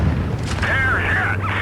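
A single tank cannon shot lands a hit in the World of Tanks Blitz video game. A booming impact is followed by a brief whistling, ringing tail, heard against a steady low game rumble.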